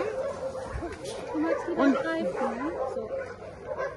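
Three very large dogs bark and whimper close by, with short yips and whines mixed under a person's ongoing talk.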